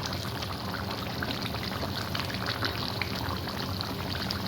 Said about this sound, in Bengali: এবার আমরা এটা মাছের তরকারিটা কচু ঢেলে নিলাম।